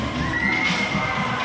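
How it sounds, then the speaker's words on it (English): A boxing crowd at a heavyweight title fight in the fighter's hometown, cheering and roaring with everyone on their feet, a steady loud wash of massed voices with no break. "The crowd's definitely behind him tonight. This being his hometown, everyone's on their feet."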